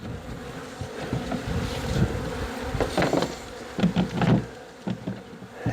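Honeybees in a nuc box fitted with frames buzz close by in a dense, droning hum that swells and falls unevenly, with louder bursts as individual bees pass near.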